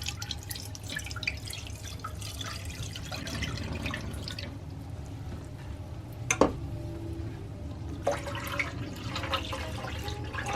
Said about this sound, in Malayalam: അപ്പം നമുക്ക് അരിച്ച് നമ്മൾ അലുവ ഉണ്ടാക്കുന്ന പാത്രത്തിലേക്ക് ഒഴിക്കാം.